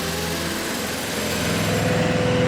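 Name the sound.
engine started and revved for fiber cable reel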